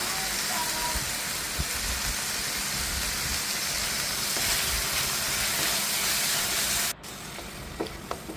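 Vegetables for a Chinese-style dish sizzle loudly in a hot pan, a dense steady hiss that runs throughout and drops off sharply near the end, followed by a few small clinks.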